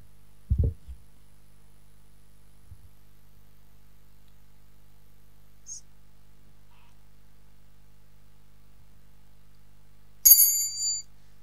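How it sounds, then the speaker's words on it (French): A small bell rings once, a short bright ding used as a time signal during a spoken exhortation, heard near and alone after a low thump and a long stretch of near silence. "La sonnette vous donnera le signal."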